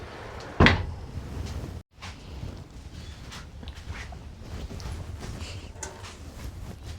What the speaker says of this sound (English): So I'm going to shut this door to keep the warmth in.